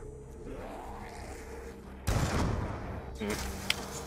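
Gunfire from a gun in the zombie shooter Mob of the Dead, heard as loud, dense volleys of shots at close range, one burst cutting in abruptly partway through and another near the end.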